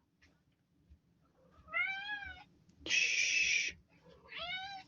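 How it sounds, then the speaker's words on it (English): Indoor house cats meow several times, close and loud, with a brief burst of noise between the calls and a soft hush spoken at the start. "Notice how the cats always come when we do these reading reactions?"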